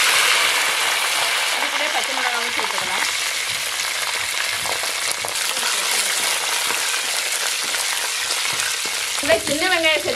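Steady loud crackling sizzle of curry leaves frying in hot oil with fennel seeds, continuous throughout, with a brief voice near the start and another at the end.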